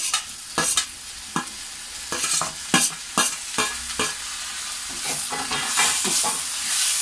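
Onions and tomato sautéing in a pan for a crab fry, loud close sizzling broken by repeated sharp scrapes and knocks of a spoon stirring, with no one talking.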